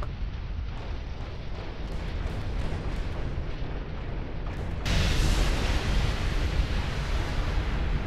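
Dreadnought battleship main guns firing in a naval video game, a dense rumbling roar of overlapping heavy blasts that thickens and grows louder midway, with no pause between shots.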